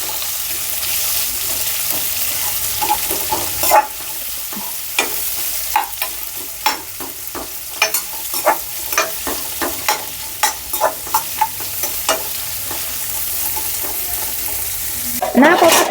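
Onions with a pinch of salt fry over a medium flame for a poori curry, a constant soft sizzle broken by a series of sharp spatula scrapes and taps against the pan, close and without talk.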